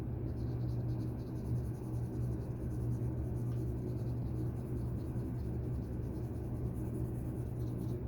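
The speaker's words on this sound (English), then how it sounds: "I'm going to come over on this side, do a little bit of the cross hatching here" A pencil cross-hatching on paper for a city-scape drawing makes soft, continuous scratchy strokes, quiet and close, with no speech.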